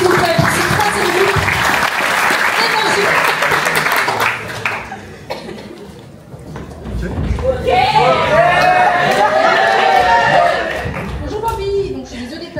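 Applause from an audience in a hall breaks out alongside voices and scattered coughs and laughter, then fades in the middle before a chattering crowd and louder clapping return near the end.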